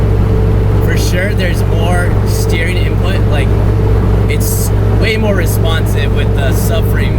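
Road and engine noise from a Mitsubishi Eclipse GSX cruising on the highway with new rear subframe and differential bushings, a steady loud drone throughout with someone talking over it.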